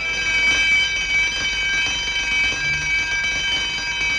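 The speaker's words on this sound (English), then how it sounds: "That alarm meant that someone had been captured." A palace alarm in a 1940 film serial sounds continuously, a steady high-pitched electric ringing tone held throughout over faint background hiss.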